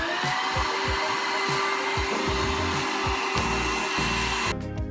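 A Bosch Readyy cordless 16 V stick vacuum cleaner runs steadily with a loud, continuous whine and airflow roar, with occasional bumps and knocks as it moves, before cutting off abruptly near the end.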